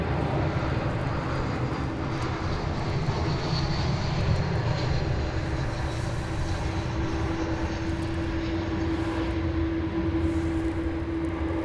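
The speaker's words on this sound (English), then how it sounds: "Almost too many planes to count over there." A jet airliner takes off or lands at DFW Airport, its engine roar loud and steady the whole time, with a sustained whine rising partway through, heard outdoors from a plane-spotting spot nearby.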